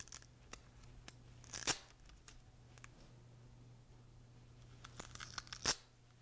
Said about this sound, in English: Remove the Velcro tape.